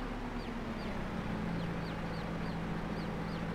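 Ducks quacking in the Farming Simulator 22 video game, short repeated calls over a steady low farmyard hum, with chickens also kept in the same pen.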